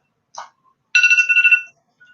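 A phone ringtone goes off indoors: a brief chirp, then a loud, bright electronic melody lasting under a second, then near silence.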